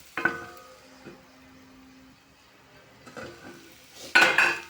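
Food frying in a pan is stirred in bursts, with a few sharp scrapes and clanks of utensil on metal separated by quieter stretches of faint sizzle.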